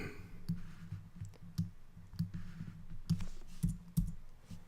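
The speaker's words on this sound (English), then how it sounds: "hit your return key on your keyboard" Computer keyboard keys and a mouse click irregularly up close, sharp light taps scattered every fraction of a second with no talking.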